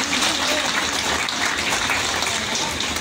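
Applause from an outdoor crowd before a light-and-sound show at the River Kwai bridge in Kanchanaburi, a dense, even hiss of many hands clapping. It sounds broad and noisy, almost like rushing water, and is steady throughout with no voices.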